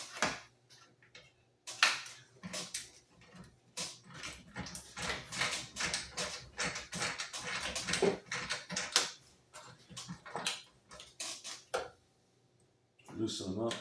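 A small ratchet with a 3/16 socket works bolts loose on the firewall of a giant Top Flite P-40 model plane, making dense bursts of quick clicking ticks with brief pauses, close and fairly faint.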